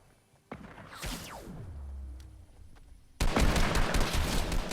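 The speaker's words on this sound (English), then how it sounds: "Sounds like a sniper." Sniper gunfire in a Fortnite match: a loud crack with a whooshing sweep, followed by a sustained dense burst of gunfire toward the end.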